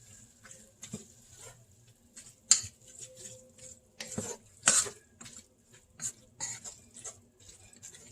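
Taco seasoning is stirred into food in a pan: quiet scraping and clinks of a utensil against the cookware, with a few sharper knocks and a faint sizzle underneath.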